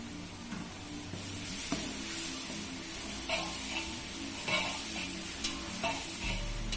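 Vegetables and tomatoes sauté in hot oil for hotel-style sambar, a steady close sizzle with scraping stirs and occasional clinks of a utensil against the pan, no talking.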